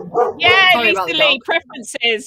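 A dog barks and yips a few times in the background of an indoor live online revision lesson, its short calls overlapping steady close talk from a teacher.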